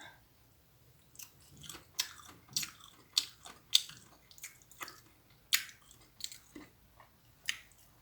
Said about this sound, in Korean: 오가피 오가피를 무침을 한번 먹어보겠습니다